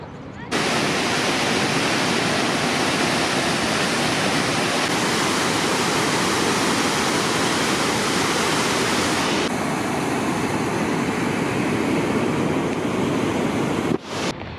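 Water released through the wall of the Hume Dam makes a loud, steady roaring rush that runs unbroken and close, drowning out everything else before a brief dip near the end.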